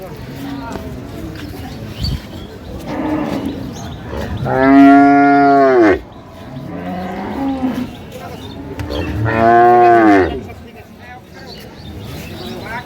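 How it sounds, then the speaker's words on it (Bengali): A cow and calf moo loudly nearby at the Ambari cattle market in Dinajpur, two long drawn-out lows with quieter moos between, while people talk in the background. "গাভী বাছুর এই"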